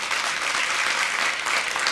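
An audience at a trading community launch event applauds steadily and densely, a continuous wash of many hands with no voices standing out.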